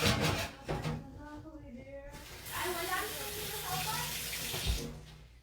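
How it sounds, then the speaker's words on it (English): Tap water runs into a kitchen sink while vegan red velvet batter is scraped from a bowl, a steady broadband rush with brief splashy changes, heard under a person talking. "dump this into the sink"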